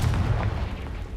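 The Confringo spell blast in a castle setting of a magic video game is a deep, rumbling boom that fills the whole moment at steady loudness before easing slightly.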